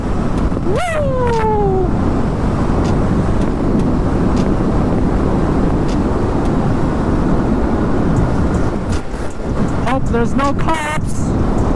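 Heavy, constant wind roar buffets a rider on a Yamaha MT-07 naked motorcycle at speed, with a whoop and a short spoken remark over the rushing noise.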